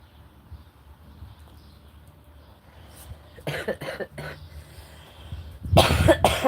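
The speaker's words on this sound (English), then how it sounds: "loves my bong ripping cough" Two bursts of harsh coughing, the second louder and longer, after a few quiet seconds of low background rumble.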